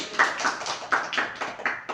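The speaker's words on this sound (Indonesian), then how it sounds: "kita beri tepuk tangan ke Ayu." A small group in a classroom counselling session claps hands, about eight distinct soft claps in an uneven rhythm, fairly quiet and close.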